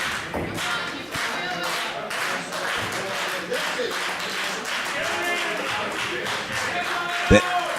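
A wrestling crowd claps and cheers steadily under loud commentary, with scattered claps and a sharp thud near the end.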